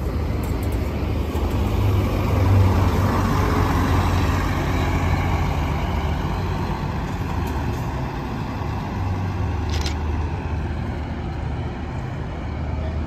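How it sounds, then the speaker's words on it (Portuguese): A 14-metre Scania K360 coach of Autoviação Bragança pulls out of the Pouso Alegre bus terminal, its diesel engine a loud, steady rumble that holds close and constant with no talk over it. "K360, tocão 14 metros da Autoviação Bragança. Já vai saindo daqui do terminal rodoviário."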